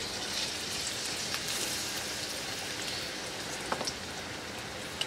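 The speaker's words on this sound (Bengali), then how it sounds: "এখন আমি এতে পেঁয়াজ ঝুরি এবং কাঁচামরিচ ঝুরি দিয়ে দিচ্ছি" Chopped onion and green chili frying in hot soybean oil give a steady, faint sizzle throughout, with a few small pops near the end and no talking.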